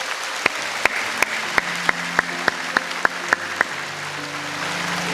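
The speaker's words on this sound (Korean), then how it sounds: "우리 주님께 영광의 박수를 드리겠습니다." A church congregation at a Sunday service gives applause, heard as a run of about a dozen sharp, evenly spaced claps over a sustained organ-like drone, fairly close and distinct.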